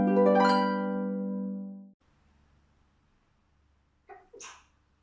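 A single loud, close sneeze bursts out and fades over about two seconds, followed by quiet room tone and a brief spoken reply near the end.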